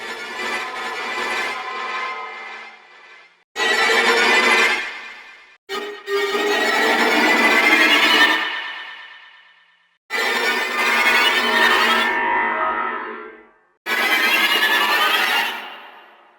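Shrill, dense aleatoric high string effects from the 8Dio CAGE library swell and smear in four separate bursts, each rising loud and then cutting off, with brief silences between.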